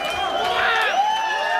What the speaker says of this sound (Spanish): Y me den un fuerte aplauso